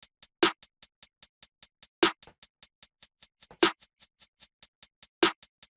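A sparse beat plays doubled snare hits at regular intervals over a quick, steady run of crisp hi-hat ticks, with no talking.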